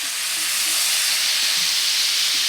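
Ground beef with taco seasoning sizzles in a pan, a steady close hiss of frying that holds evenly throughout.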